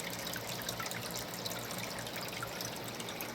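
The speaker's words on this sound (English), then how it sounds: "one pump, pumping water up into the creek, falls down into the creek here, and flows through the center of the garden" Water pumped up into a garden creek spills back down into it with a steady, unbroken splashing trickle, close and moderately loud.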